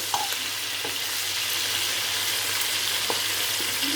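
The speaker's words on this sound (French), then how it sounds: "Alors là, on laisse cuire tranquillou, on ne se prend pas la tête." Chicken pieces fry in a pan with a steady, close sizzle and occasional soft crackles and stirring sounds, with no talking.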